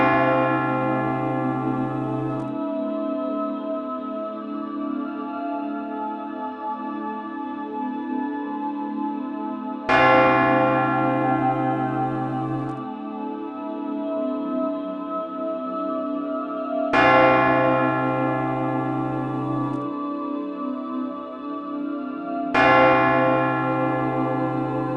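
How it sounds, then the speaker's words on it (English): A church bell rings in four separate strikes spread over about 25 seconds. Each strike is loud and bright, and its rich, ringing tone hangs and slowly fades before the next one. "ring the bell, rekindle,"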